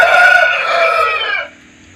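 A Peruvidai breed rooster from a farm in Erode district crows once, loud and close, a strained harmonic call that holds for about a second and a half and then cuts off, with no talk.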